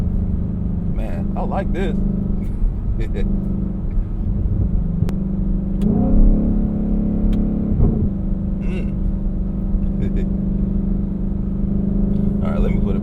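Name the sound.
sports car engine revving while driving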